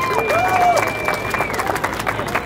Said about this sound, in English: Let's give a big round of applause to these two right over here